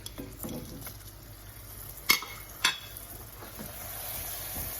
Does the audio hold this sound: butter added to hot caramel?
yes